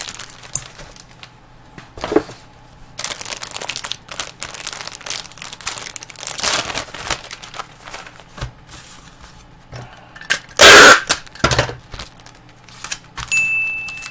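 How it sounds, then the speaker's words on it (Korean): A hot pack's plastic wrapper crinkles and rustles up close in scattered bursts while packing a tarantula for shipping, with one sharp loud crackle of the wrapper being torn or squeezed. "여기에 이제 핫팩을 터트려요."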